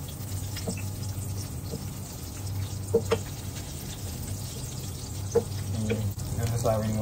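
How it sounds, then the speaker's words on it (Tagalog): Garlic and onion sizzle gently in melted butter in a pan, a soft steady frying hiss close by with a few light clinks of a utensil against the pan. "Isa na natin mag-gisa ng bawang at sibuyas"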